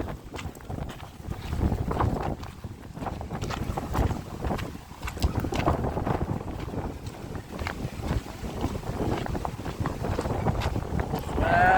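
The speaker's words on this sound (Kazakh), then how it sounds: "Бүгін жел деген страшно" Strong wind at Lake Alakol, Kazakhstan buffets the microphone in a continuous, heavy roar with gusty surges, waves sloshing faintly beneath.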